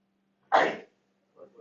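A single sharp sneeze bursts out in a classroom, loud and brief, followed after a pause by a quiet murmur of a voice.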